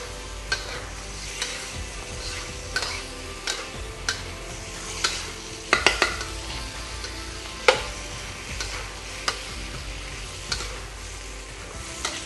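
Bloomed turmeric being stirred in a pan, a soft continuous scraping with light sizzle and irregular spoon taps against the pan, with a cluster of sharper knocks near the middle; no talking.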